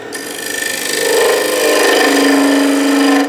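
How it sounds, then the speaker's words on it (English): A gouge or scraper held against spinning wood on a lathe while turning a half bowl wall hanging, giving a steady, loud, continuous scraping hiss that builds in the first second and then holds with a faint ringing tone. "now I'm essentially scraping"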